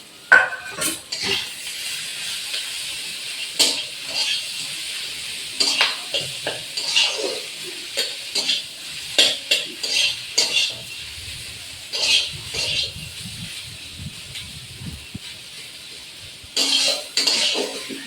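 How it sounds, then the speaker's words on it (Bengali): Potato filling sizzles and fries in oil with spices and chillies while a utensil scrapes and stirs in irregular bursts, close up. "দিয়ে আমি ভালো করে কষিয়ে নেব তেলের মধ্যে"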